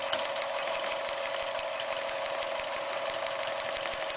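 Sewing machine stitching steadily with a hexi presser foot, a continuous even whirring hum of needle and motor running at a moderate, controlled speed, close and alone without talk.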